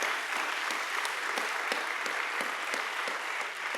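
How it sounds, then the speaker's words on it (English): An audience at a national forum on reparations claps in sustained, dense applause, loud and even from start to finish, with no talking over it. "we have to give a thunderous round of applause to WPFW for carrying this program"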